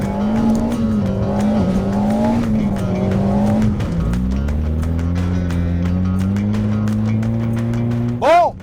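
A car drives fast through a grassy field with two wheels in the grass, its engine droning loud and steady, then shifting lower and rising again before a sharp rising whine at the end, with faint talk underneath.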